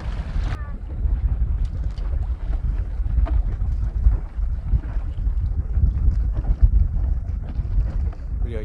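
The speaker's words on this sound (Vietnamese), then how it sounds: "Bây giờ gió tới cũng hơi mạnh này đó" Strong wind buffets the microphone aboard a small fishing boat at sea off Norway, a steady loud roar with low rumble and water wash throughout, no one speaking.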